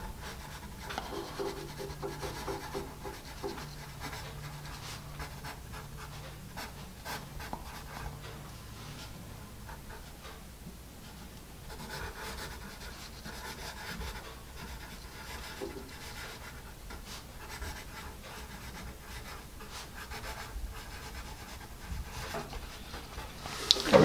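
A Dixon Ticonderoga 1B pencil writes on paper with a steady, soft graphite scratching that runs continuously at moderate loudness, with no talking over it.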